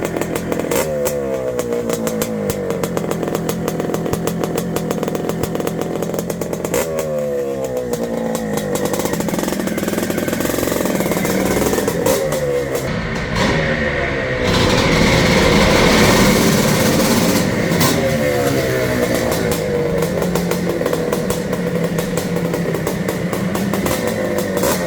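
A 1979 Honda CR250R Elsinore two-stroke motorcycle engine crackles and revs repeatedly, its pitch climbing in sharp bursts before dropping back to a raspy idle, loud and close, with no speech.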